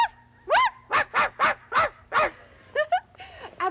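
A person imitates a small female dog yapping, voicing a quick series of about eight high, bright yips with short gaps between them.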